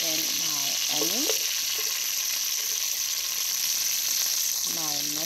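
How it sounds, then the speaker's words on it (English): Onion hits a hot pan where steak has just been seared, setting off a loud, steady sizzle and frying hiss that fills the clip, with brief voice-like tones near the start and end. "I'm going to throw in my onion"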